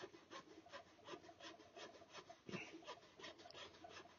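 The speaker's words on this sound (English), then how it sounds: "Once you get a line cut down through there with your gouge, it acts as a channel" A hand gouge cuts a channel into a wooden rifle stock for a swivel breech rifle kit, giving repeated rasping scrapes in an uneven rhythm, close and moderately quiet, with no talk.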